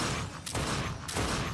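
Rapid gunfire shooting bottles in a shooting minigame in The Darkness II, two dense loud bursts of shots close together within a second and a half.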